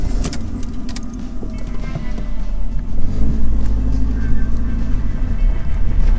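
A Chevrolet Beretta pulls away on a road trip, its engine a steady low rumble that swells slightly as the car moves off, with some faint jangling near the start.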